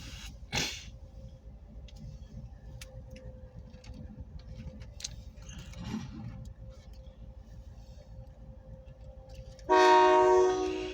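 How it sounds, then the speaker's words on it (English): A light-power OC&T freight train moves past Rynd Farm station, heard as a low steady rumble with faint ticking and clanks, and a loud horn blast bursts in near the end. "power train just went by"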